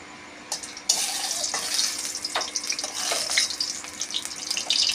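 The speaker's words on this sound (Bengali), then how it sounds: "পরিমাণ মতন তেল দেব।" Oil hits a hot kadai (wok) for a Bengali lentil-and-okra dish, a close, steady sizzling hiss that starts abruptly after a brief quiet moment and continues with small crackles and pops, with no talking.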